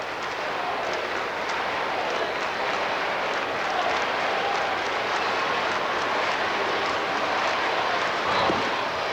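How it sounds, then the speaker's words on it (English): The crowd at a 1997 Cubs versus Giants baseball game in the stadium roars and claps in a dense, steady wash of cheering that never lets up. "The crowd trying to get something started."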